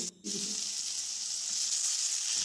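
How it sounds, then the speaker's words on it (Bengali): Soaked chickpeas and potatoes frying in a pan for a vegetarian cabbage curry: a steady hissing sizzle that begins right after a brief dip and holds evenly, with faint stirring and no talking. "ছোলার সাথে আলুগুলো ভালো করে কষিয়ে নেব"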